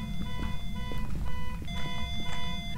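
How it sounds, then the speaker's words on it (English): A car alarm blares in a garage in the game Phasmophobia, a loud, continuous electronic pulsing tone with rapid repeating beeps throughout. "It's a car alarm."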